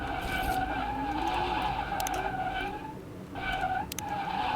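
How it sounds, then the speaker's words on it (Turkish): In Car Mechanic Simulator 2021, an electric car spins donuts, its tires squealing in long sustained wails with a brief dip midway, loud and continuous, with no engine roar. "Vay, Donut da yapabiliyormuşuz elektrikli arabayla."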